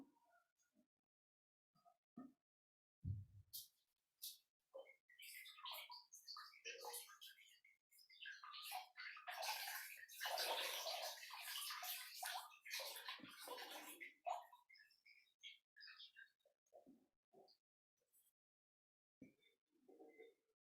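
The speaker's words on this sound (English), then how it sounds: "rinse your feet off into the bowl" Rinse water is poured over feet into a bowl during a foot-soak meditation, heard as quiet, intermittent splashing and trickling in a hushed indoor room, with a steadier pour in the middle.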